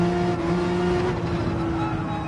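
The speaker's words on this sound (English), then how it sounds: "Quick braking and back on the throttle there" Race car in Gran Turismo 7 slowing and picking back up through a corner, a loud steady engine drone with a tonal whine that dips slightly then holds, close and continuous with no talking.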